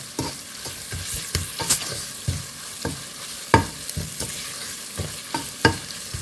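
Turmeric and other spices fry in oil in a pan for Kerala-style sardine curry, with steady sizzling and repeated clacking strokes of a spoon stirring them close by. No one speaks.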